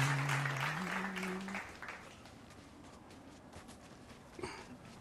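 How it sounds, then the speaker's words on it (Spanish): A short burst of applause from a small group, heard under a voice at the start and fading into quieter room noise. "Un aplauso para Manuel."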